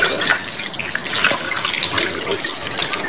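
Steady running tap water splashes as a whole fish is washed under the faucet before salting and grilling. The gush is continuous and fairly close, with a few brighter splashes over about three seconds and no talking.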